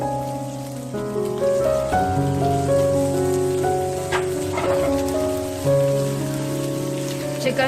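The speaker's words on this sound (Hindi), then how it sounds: "चिकन को अब हम फ्राई करेंगे।" Chicken pieces frying in a pan for green karahi give a steady crackling sizzle throughout, heard beneath continuous background music.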